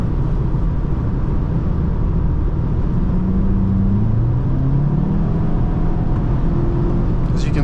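A 2025 VW Jetta GLI speeds along the Autobahn, with a steady, loud cabin drone of engine, road and wind noise and a faint rising engine note throughout, heard from inside the car.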